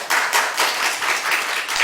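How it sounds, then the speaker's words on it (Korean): An audience at a CEO talk show bursts into applause, many hands clapping in a dense, fairly loud wash that swells and dips briefly. "박수 한번 부탁드리겠습니다."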